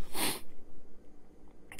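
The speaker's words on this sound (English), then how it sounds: "I'm trying to sneeze here. I think I fought it off." A suppressed sneeze, a short sharp burst of breath at the start, followed by quiet sniffing and breathing, close and alone without talk.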